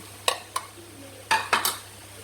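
A spoon scrapes and clinks against a cooking pot while ginger paste is stirred into browned onions, four sharp knocks in two pairs over a quiet hum.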